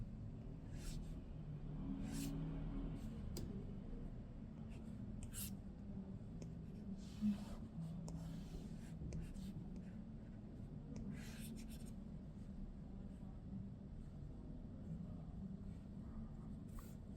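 A stylus drawing on a tablet in Procreate, with faint, quiet scratchy strokes and taps over a low steady background rumble, no talking.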